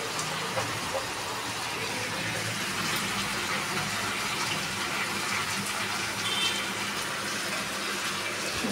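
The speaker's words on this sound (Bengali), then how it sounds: "হাতটা ধুয়ে নিই।" Tap water runs steadily while hands are washed in a kitchen during fish curry cooking, a continuous soft splashing gush at moderate distance.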